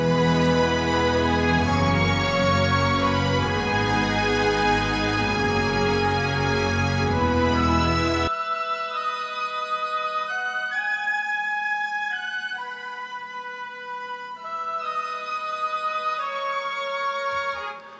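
An orchestral woodwind section plays together, opening full and loud with low support beneath, then thinning to lighter sustained woodwind lines that continue steadily until a soft ending, with no speech.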